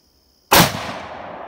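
A Savage Axis .243 rifle fires a single loud, sharp shot at a milk jug outdoors, a sudden crack followed by a fading echo and tail of reverberation.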